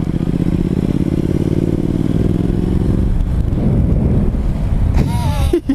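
Yamaha MT motorcycle engine rumbling steadily at close range, then pulling away with a rising rev as it rides off, heavy wind buffeting over the sound.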